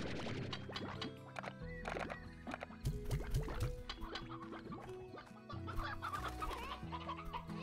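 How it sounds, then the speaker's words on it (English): Chickens cluck repeatedly in the video game Slime Rancher, a busy layered flock sound over game music and ambience, fairly close and continuous with no talking. "Chickens, keep coming."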